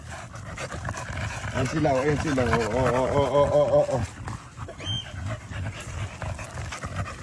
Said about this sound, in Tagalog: Ayan mga aso ko guys.